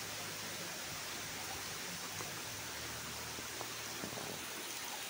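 A lively creek flows across a farm lot in Buenavista, Quezon, a steady broadband rush of running water with no break, heard close and alone.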